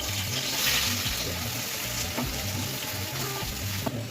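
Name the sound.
onions frying in hot oil for birista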